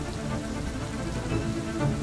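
Rain falls at night around a farmhouse as a soft, steady patter of drops hitting the ground and surfaces, moderately quiet and continuous with no voices.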